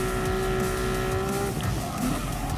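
Racing cars in Gran Turismo Sport, including Porsche 911 GT3 996 and 997 models, howl at high revs while tires squeal through a corner. The engine note is close and steady, and no one speaks.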